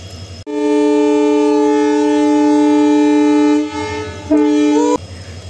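A train horn blares loud and sustained, cutting off briefly and sounding again in a short final burst, heard up close while boarding a train bound for Khoirabari.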